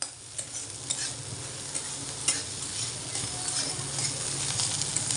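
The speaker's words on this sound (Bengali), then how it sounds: "আজকে আলু উচ্ছে দিয়ে মানে ভাজা করছি, উচ্ছে আলু ভাজা" Bitter gourd and potato sizzle as they fry in a pan, with a steady hiss and occasional sharp scrapes and clicks of stirring close by, and no voices.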